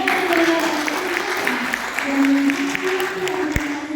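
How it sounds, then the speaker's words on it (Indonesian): An audience at a debate grand final applauds, steady crowd clapping throughout, with some background voices and a sharp knock near the end. "Berikan aplaus yang meriah kepada Komisi"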